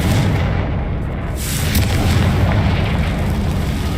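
Spell blasts from Bombarda and Confringo in Hogwarts Legacy erupt as heavy, loud booms that roll into one another without pause.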